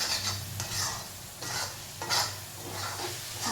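Garlic frying in oil for a garlic pickle, a steady close sizzle with repeated stirring scrapes in bursts, moderately loud and with no voices.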